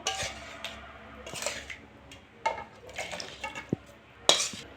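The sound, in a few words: pouring chana masala out of the cooking pot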